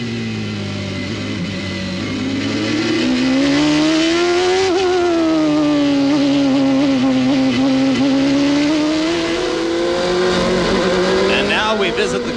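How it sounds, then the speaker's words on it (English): Nigel Mansell's CART race car engine at the 1994 Toronto street race screams onboard at high revs, pitch rising and falling through gear changes and corners, loud and continuous, with a commentator talking over it. "now we visit the car of Nigel Mansell as he chases leader Robbie Gordon"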